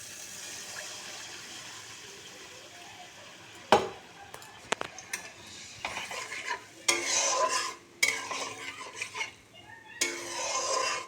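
Water hits a hot pan of frying spices (coriander and other ground spices, a green chili and two bay leaves), setting off loud hissing sizzle bursts that swell and fade over soft scraping and stirring.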